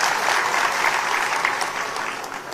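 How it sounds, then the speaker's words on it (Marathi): An audience at a political speech in Maharashtra breaks into loud, dense applause, a sustained wash of many hands clapping that tapers slightly toward the end, with no speech over it. "म्हणून दादांसाठी एकदा जोरदार टाळ्या होऊ द्या"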